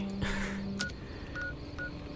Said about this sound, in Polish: mamy nowy sygnał, to puśćmy na zakończenie